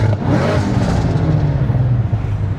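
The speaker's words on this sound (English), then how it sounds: "Oh my God, that's stock exhaust." Cadillac CT5-V Blackwing with a supercharged V8 and stock exhaust revving hard, a loud, close, deep engine roar with rising and falling throttle and supercharger whine, with no talking.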